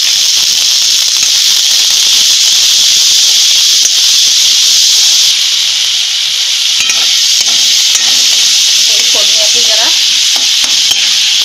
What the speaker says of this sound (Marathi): हे जरा भाजून घेऊया आपण 2 मिनिट